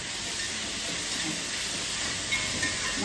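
Tomatoes tossed into fish masala frying in a pan give a steady, loud hissing sizzle that holds evenly throughout, close up and with no talking.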